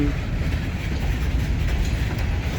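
Freight cars of Wheeling & Lake Erie 617 roll past close by on jointed rail, a loud continuous rumble with rhythmic wheel clatter and no voices.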